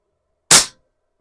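A single sharp, loud crack from an Air Venturi Alpha compact air pistol firing, a short snappy burst that decays quickly into silence.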